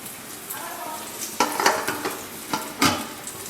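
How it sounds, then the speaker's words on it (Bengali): Soft sizzling of eggplant frying in a pan, broken by a few sharp clinks and scrapes of a utensil against the pan. "বেগুন ভাজা হয়ে গেছে, এখন নামিয়ে দেবো"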